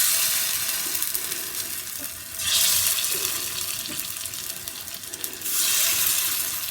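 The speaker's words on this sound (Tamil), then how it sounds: "டீப் ஃப்ரை பண்ணலைங்க, நான் இன்றைக்கி ஷாலோ ஃப்ரை மாதிரி தான் பண்ணுறேன்." Fish fingers shallow frying in ghee in a pan, a steady sizzle and crackle with two louder surges of hissing, close and without talk.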